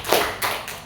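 An audience at an Indonesian teacher workshop on coding and artificial intelligence claps in three short, sharp bursts, with a brief pause between each round.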